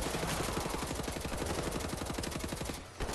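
Rapid automatic gunfire from the video game Wolfenstein: The New Order, one loud, steady burst of closely spaced shots lasting about three seconds, then cutting off abruptly, with no voices.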